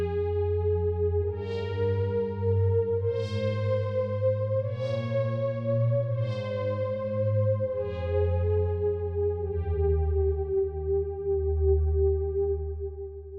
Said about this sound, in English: This first pad called Drown is really dope.